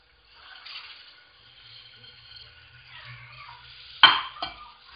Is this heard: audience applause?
no